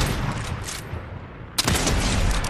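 Gunfire in Fortnite, a rumbling stretch of shots followed by a sudden sharp crack and a dense burst of firing, loud and close.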